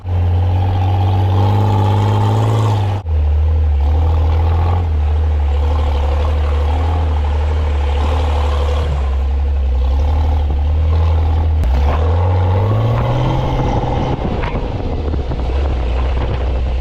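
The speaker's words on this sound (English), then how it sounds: "I took the keys of the old truck, and this is about as much fun you can have in a 4-wheel drive" Engine of an old Toyota Land Cruiser 4WD labouring uphill, a loud steady low drone heard from inside with wind buffeting; the pitch drops sharply near three seconds at a gear change, then climbs again toward the end.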